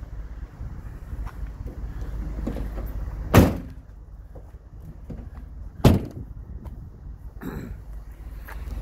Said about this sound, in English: You actually just grab your door and automatically aligns, and you hear it click.